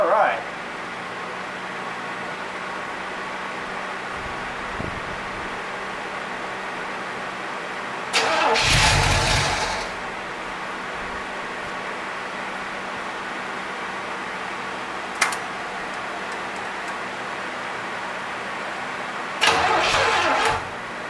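Engine of a 1951 Ford cranking and catching in a few loud bursts between stretches of steady idle, close by, with voices talking over it.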